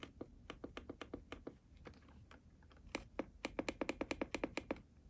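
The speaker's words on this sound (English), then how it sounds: "you can hear the Joy-Cons clicking." Rapid, irregular plastic clicks and taps of Nintendo Switch OLED Joy-Cons in a carry case, fairly close and quiet, bunching into quick flurries toward the end, with no talking.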